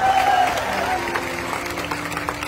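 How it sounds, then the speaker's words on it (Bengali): Steady applause from a crowd at a public speech, dense clapping that holds at an even level throughout, with a brief voice audible near the start. "ওনার জন্য একটা হাততালি আমি আশা করি"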